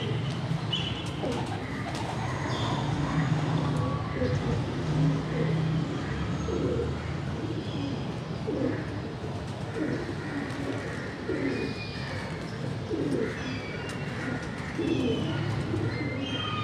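Pigeons cooing on a Karachi rooftop, a steady run of low, repeated soft coos spread across the whole stretch over a faint background hum, with occasional distant traffic and no talk.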